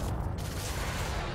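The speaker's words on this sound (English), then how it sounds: "There we go, let's start firing at it." Cytoscrambler burst lasers firing in Elite Dangerous, a dense, continuous crackling rush of rapid shots filling the moment, loud and unbroken with no voices over it.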